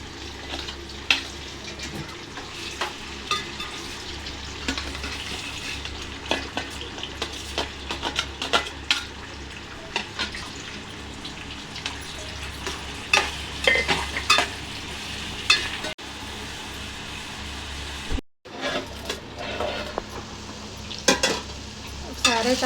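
Onions, green chillies and tomatoes fry in a pan for a prawn and gongura curry, with a continuous close sizzle under frequent scraping and clinking stirs of a spatula, the sound briefly cutting out once.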